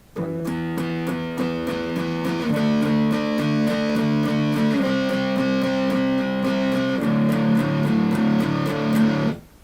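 Steady strummed chords on a guitar with a distorted, buzzy tone, shifting to new chords every couple of seconds, played alone without any talking.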